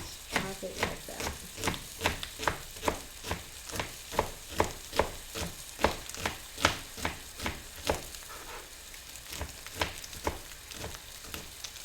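A kitchen knife chops tightly rolled Swiss chard leaves on a cutting board, producing a steady series of crisp, evenly spaced thunks close up, about two per second.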